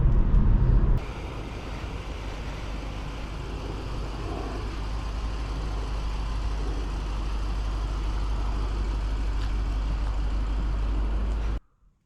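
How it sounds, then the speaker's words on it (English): A 2011 BMW 750Li driving along, a steady low engine and road drone heard from inside the cabin, constant for several seconds before cutting off sharply. "Today we are driving a 2011 BMW 750 Li on our channel"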